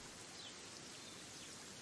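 Heavy rain pouring down in the Fishing Sim World video game during a carp championship on Manor Farm: a steady, faint hiss of falling rain with no talk.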